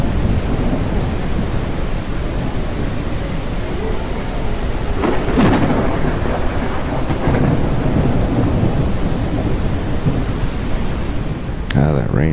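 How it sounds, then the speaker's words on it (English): Heavy rain and rolling thunder in the SurrounDead video game: a loud, steady wash of downpour fills the whole stretch, with deep thunder rumbling beneath it and no pause. "rain is so damn loud."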